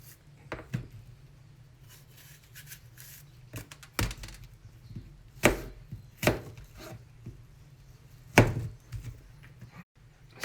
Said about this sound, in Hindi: अब जी सेब काट रहे हैं।